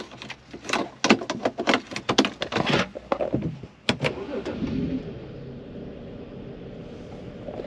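A BMW 330i E90 with the N53 engine is started. Several knocks and clicks are followed by the engine catching and settling into an even, steady idle.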